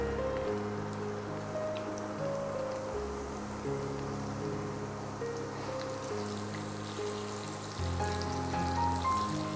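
Ginger, garlic, green chilli and curry leaves fry in an oil-filled pan with a steady, close hiss and crackle that holds through the whole stretch, with a low hum running underneath and no one speaking.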